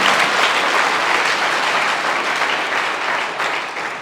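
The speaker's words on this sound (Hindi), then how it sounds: "एक बार फिर से तालियां बेटी की" An audience bursts into loud, sustained clapping for a girl's speech, a dense crowd applause that gradually tapers slightly over a few seconds.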